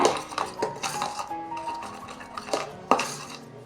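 Crushed biscuits being mixed in a bowl, a spoon scraping and clinking against the sides in irregular close strokes with a few sharper knocks, no voices.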